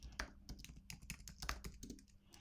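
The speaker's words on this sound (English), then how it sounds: "I have to type in my root password." Quick bursts of keystrokes on a computer keyboard while a root password is entered in a Debian terminal, close and clear but fairly quiet, with no talking.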